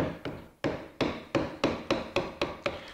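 Carving tools chopping into wood while shaping a wooden molding plane: about nine sharp, close knocks in a steady, evenly spaced rhythm, each a crisp hit with a short decay, and no voices.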